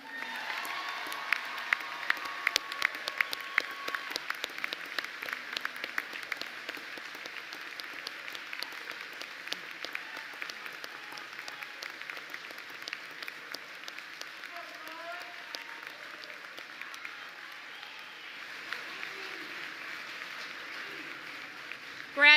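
A large audience at a college commencement ceremony in Leesburg applauds the 71st graduating class of Lake-Sumter State College, a long, sustained wash of clapping with scattered cheers and crowd murmur throughout.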